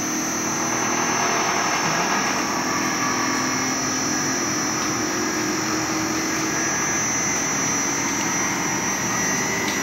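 An aircon unit restarts during compressor troubleshooting, putting out a loud, steady whooshing roar with a constant hum that continues unbroken.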